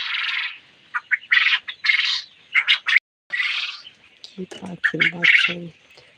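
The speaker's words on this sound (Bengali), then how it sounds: "এটা হচ্ছে জাপানি পাখি" Japanese quails calling on a quail farm in Bhola, a run of short, bright chirping calls in bursts, close and fairly loud, with lower-pitched calls joining toward the end.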